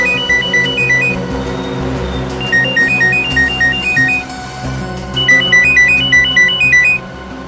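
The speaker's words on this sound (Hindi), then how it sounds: "फोन की घंटी बज रही है" A phone ringtone chirps in repeated electronic bursts, loud and close over a steady background drone in a tense scene.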